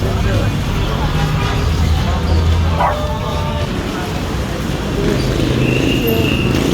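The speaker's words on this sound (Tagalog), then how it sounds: "Ito yung bentahan ng mga hayop dito guys. Mga tuta, ayun." Puppies at an animal-selling stall in a busy Divisoria market barking and yipping amid steady crowd noise and passing traffic, with someone talking over it.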